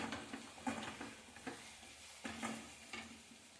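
A mixed food preparation fries on a high flame, giving a steady sizzle broken by several stirring scrapes and clinks against the pan, close and alone without talk.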